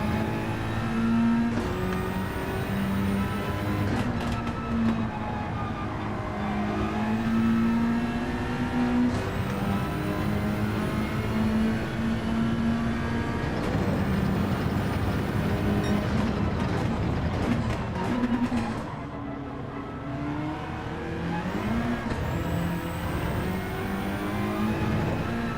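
A race car in the video game Gran Turismo 7 laps a track. Its engine note climbs and falls through gear changes, with revving and a steady roar that dips briefly late on.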